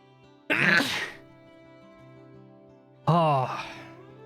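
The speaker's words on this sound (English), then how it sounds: "Not sure why I'm sneezing as much as I am" Two loud, sharp sneezes from a person, a few seconds apart, each with a quick intake and burst, over quiet game background music.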